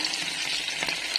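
Hot oil crackles and fries in a pan with a continuous, moderately loud hiss that holds steady from start to finish.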